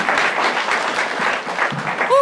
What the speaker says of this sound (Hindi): एक राउंड ऑफ अप्लॉज